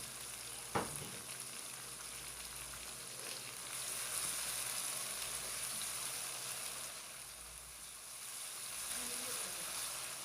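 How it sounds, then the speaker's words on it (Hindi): Ginger and garlic sizzle and crackle steadily in a hot pan, with a brief clatter near the start and faint stirring. "अदरक और लहसुन को हमने अच्छी तरह से फ्राई कर लिया है"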